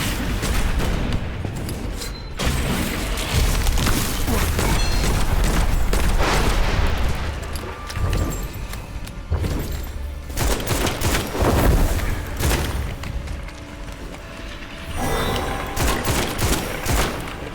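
Shotgun blasts in the video game Witchfire, a loud barrage of heavy booming shots fired in quick succession with a few pauses, layered with in-game combat noise.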